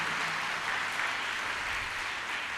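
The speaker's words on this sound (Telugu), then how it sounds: "చప్పట్లు కూడా దేవుని స్తోత్రం చెబుదామా?" A congregation at a Christian believers' conference applauds in a steady, dense wash of clapping that fills the space evenly from start to finish without letting up.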